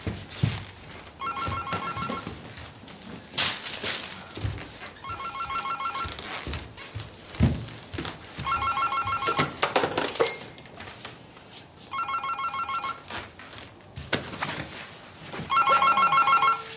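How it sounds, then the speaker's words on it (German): An old-style telephone bell rings repeatedly in regular bursts in an indoor scene from a German crime drama, with background clatter between rings. "Jetzt geh doch mal ran. Das ist doch dein Telefon."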